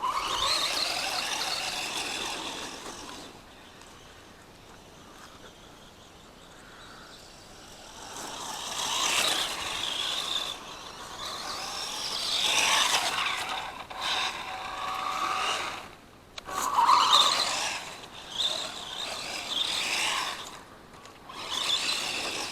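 A 1:12-scale Feiyue FY03 Desert Eagle 3 off-road RC car drives with a high, squealing motor whine and gear chatter that swells and fades as it speeds up, slows and turns. No one speaks.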